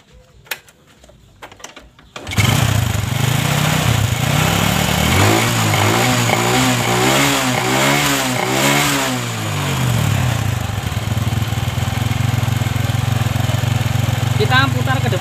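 A Honda Supra 125 motorcycle with a fuel-lag fault starts after a brief scrape and settles into a loud, steady close-up idle, its engine note wavering slightly mid-way, with no talk over it.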